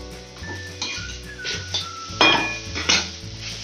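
Spiced chicken mince with garam masala and chopped coriander is stirred in a pan, with repeated spoon scrapes and metallic knocks against the pan over a faint background hum.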